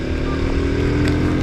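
A motorcycle engine drones steadily while riding on a long road trip, loud and close with wind rush over a constant hum, no speech.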